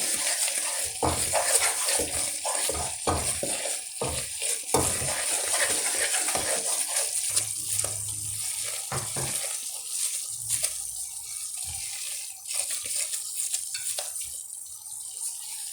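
Besan roasting in desi ghee in a kadhai: soft crackling sizzle with a run of scraping spoon strokes, busy at first and then thinning to sparse scrapes and a quieter hiss.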